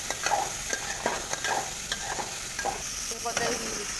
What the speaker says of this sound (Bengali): কাঁকড়াগুলোকে হালকা কিছুক্ষণ কষিয়ে নেব আমি।